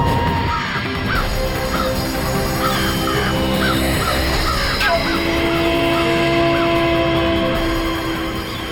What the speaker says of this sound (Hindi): ये इतने सारे पक्षी एक साथ यहाँ?